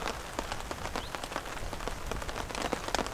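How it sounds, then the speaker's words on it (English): Rain falling on the water of a pond during a rainstorm: dense, soft patter of drops with scattered sharper taps, steady and fairly faint throughout with no voices. "Nice shots of the rain hitting the water."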